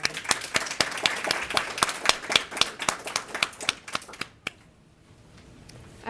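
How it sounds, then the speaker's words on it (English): Audience applause at a speaker event, a dense patter of many hands clapping for about four seconds before tapering off abruptly into near silence. "Please join me in giving Tabitha another round of applause for sharing."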